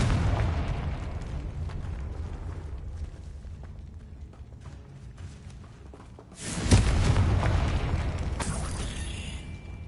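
A Confringo fire-blast spell detonates in Hogwarts Legacy: a sudden loud burst around the middle rises out of a steady low rumble and leaves a sustained roaring, crackling tail that carries through to the end.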